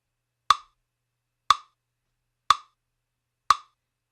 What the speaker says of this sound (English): turn your metronome on, and every time you hear the click